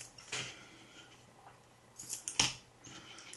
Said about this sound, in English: Just keep trimming until you're happy with it.